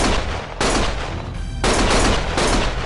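Heavy sustained gunfire in the video game Lost Judgment, dense rapid bursts with a brief lull before shooting resumes, loud and close.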